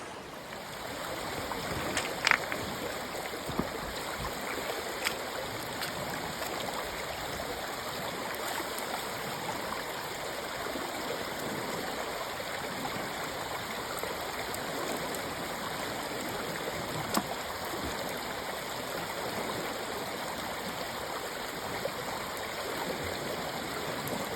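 Water runs steadily through a small sluice box on a Lake Michigan beach, a constant close gurgling rush with occasional faint clicks and no talking.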